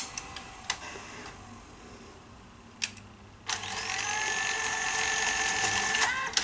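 A Sanyo Betacord 6800 Beta VCR powers off and rethreads its tape: a few sharp mechanical ticks and clicks, then a steady whirring mechanism hum that runs through the second half with a final click, close and fairly quiet.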